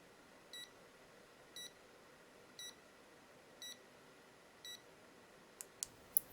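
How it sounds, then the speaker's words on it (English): Five short electronic beeps from a head torch at an even one-second pace, quiet and close, followed by a few sharp clicks. "That was just a demo on the audible beep."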